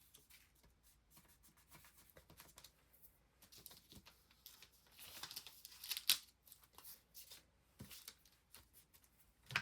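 Scissors snip through magazine paper scraps, with soft crinkling and tearing of the paper between the cuts. The sounds are close, quiet and irregular, with no talk.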